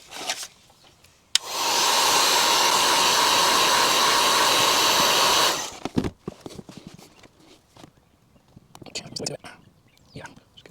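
A heat gun blasts hot air onto the rear window tint film of a Volvo XC90, a loud steady roaring hiss lasting about four seconds before cutting off, followed by quiet handling noises and soft speech.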